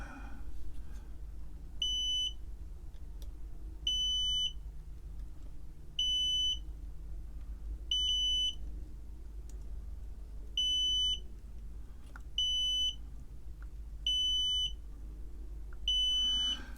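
A continuity tester beeps in regular, evenly spaced bursts while an Altair 8800 homebrew 1702 EPROM board's wiring harness is checked, with about eight clear, sharp tones over a low steady hum.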